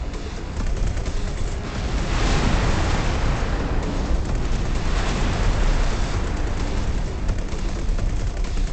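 A sustained explosion in the space game X4 Foundations gives a dense, roaring blast that rumbles steadily for several seconds at a loud, even level.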